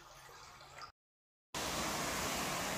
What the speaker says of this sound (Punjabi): ਬੜਾ ਭੈੜਾ ਤੂਫਾਨ